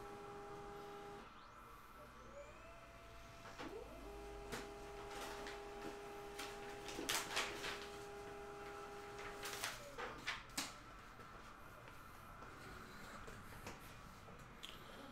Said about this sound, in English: Printer got, like, jammed.